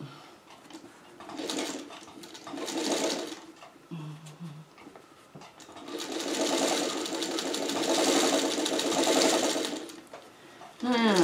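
A sewing machine stitches a quilt seam in bursts, its rapid mechanical whir starting and stopping between pauses, close and clear, with a faint voice in one quiet gap.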